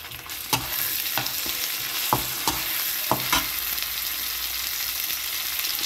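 Egg and green peas fry in a pan for a vegetable pulao, giving a steady sizzling hiss. Several sharp scrapes and clicks of stirring cut through it.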